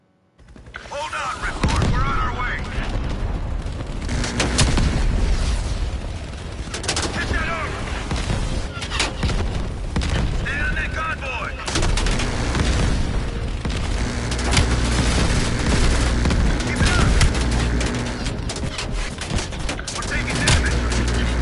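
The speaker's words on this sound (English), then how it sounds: "Keep getting hit. All them gunshots." Dense, continuous game gunfire with rapid bursts, booms and explosions crackling throughout, loud and chaotic, with voices occasionally underneath.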